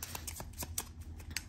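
Tarot cards being shuffled by hand before a clarifier card is drawn, a series of soft papery riffles and flicks in an irregular rhythm, close and quiet, with no talking.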